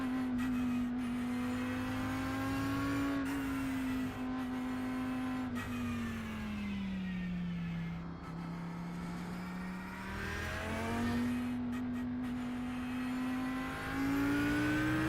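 Audi race car engine in the iRacing sim, a loud steady drone that sweeps down and back up as the car brakes and accelerates through corners, with shifts and faint tire noise and no talking.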